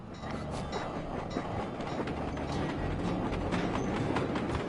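A train with a caboose in the Sly Cooper 2 video game, rolling with a steady rumble and rhythmic metallic clatter of wheels and couplings, loud and continuous, with no voices.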